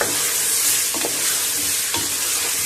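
Bottle gourd pieces being stirred into sizzling masala cooked with onions, a loud continuous frying hiss broken by two or three sharp scraping strokes of the spoon against the pot.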